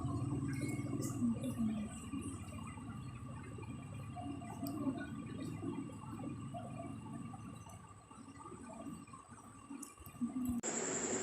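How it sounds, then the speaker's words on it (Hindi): Water pouring steadily into a cooking pot of rice, a continuous low splashing and gurgling that runs throughout, fairly quiet, with faint clinks above it. "फिर जितने चावल हैं उनके हिसाब से इसके अंदर पानी डाल देंगे।"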